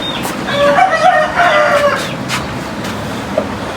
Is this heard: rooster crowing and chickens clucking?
yes